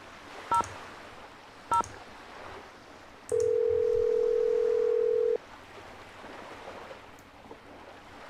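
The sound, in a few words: telephone being dialed in the Nancy Drew video game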